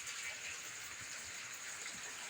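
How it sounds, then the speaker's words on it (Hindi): Heavy rain falls outside as a steady, even hiss that holds without pause throughout, soft and distant rather than close. "बारिश बाहर काफी तेज हो गई है।"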